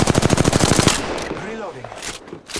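Rapid automatic gunfire in the Apex Legends video game, a loud close burst of evenly spaced shots lasting about a second, followed by echoing tails and a few scattered distant shots.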